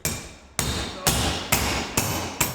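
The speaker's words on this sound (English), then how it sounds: "You just keep pounding it and you keep working it, get it as smooth as you can." Steel being hammered into a compound curve with a hand hammer in a small metal shop: six loud, sharp metallic strikes, each ringing briefly, at a slow, steady rhythm about half a second apart.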